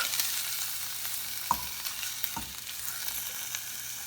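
Sauerkraut tossed with soft sautéed onions in a pan gives a steady close sizzle and frying hiss, with a couple of brief scraping stirs and no talk.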